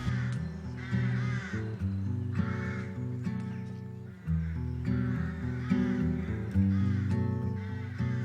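Crows cawing repeatedly in Montmartre Cemetery in Paris during an autumn walk, several harsh calls rising above a dense, steady bed of background music.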